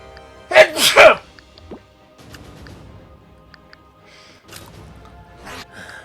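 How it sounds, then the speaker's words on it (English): A person gives one loud, sharp sneeze near the microphone, then quieter breathing and light rustling follow during a Mario + Rabbids gameplay session. "I don't know, gotta sneeze."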